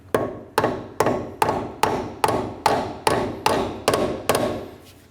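A hammer drives a small bushing into a door hinge on a 1988-2000 Chevy K1500, striking eleven evenly spaced, sharp metallic blows at a steady rhythm, close and loud.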